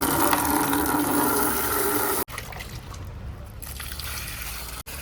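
Water pours onto a jackfruit plant as a steady rushing splash, cutting off abruptly midway and giving way to a quieter trickle and soft patter.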